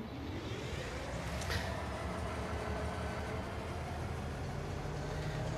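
A freight train pulls away in Farming Simulator 22, a steady low rumble with a long droning tone and faint whistle-like streak near the start, continuous and fairly distant throughout.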